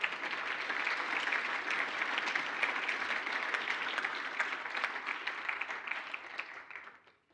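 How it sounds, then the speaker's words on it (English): An audience at a conversation on accountability and justice gives a sustained round of applause, a full dense wash of clapping that holds steady for several seconds and then fades out. "Let's give a round of applause for all of us and everybody"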